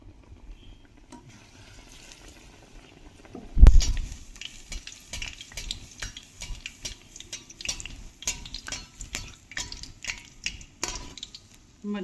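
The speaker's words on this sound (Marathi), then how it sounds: "आता आपण ही ब्रेड यात टाकून ब्रेड पालक पकोडा करायला घेऊया।" Bread spinach pakoda dropped into hot oil over a medium flame: a soft thud, then a steady crackling sizzle with scattered pops that carries on to the end, with no talking.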